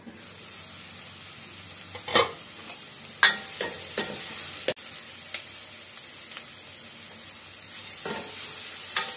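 Cabbage and capsicum sauté in a pan with a soft continuous sizzle, broken by several sharp scraping stirs and clinks of a spoon against the pan, no one speaking.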